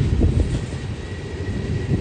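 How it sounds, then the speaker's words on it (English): A Union Pacific manifest freight train rumbles past nearby on BNSF's Cajon Subdivision, a steady heavy roar of wheels on rails with rhythmic clatter and some wind buffeting. "Union Pacific Manifest train eastbound on the BNSF tracks."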